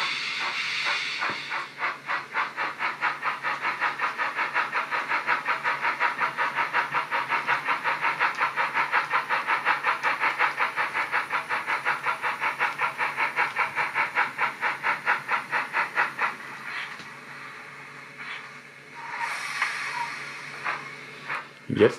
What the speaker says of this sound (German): Ich lasse die Lok jetzt einmal in Fahrstufe 50 vorbeifahren.